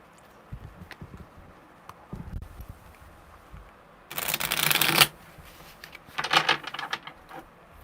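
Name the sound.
shuffling tarot cards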